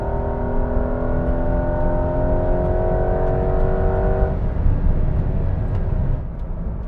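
A Porsche 911 Carrera 4 GTS turbo engine revs hard under acceleration, a loud rising tone that holds strong and then drops back into a rougher drone near the end.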